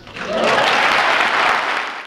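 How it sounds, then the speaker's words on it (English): Crowd cheering and clapping loudly inside the Geary County Convention Center, a dense sustained roar of applause that swells quickly and holds steady for about two seconds before fading. "Cheers, applause, and hope filled the Geary County Convention Center."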